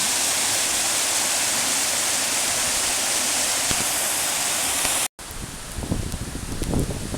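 Eas Mor waterfall in spate at High Kildonan roars as a loud, continuous broadband rush of falling water, heard close and steady, then after a brief cut it continues slightly softer with gusty wind noise mixed in.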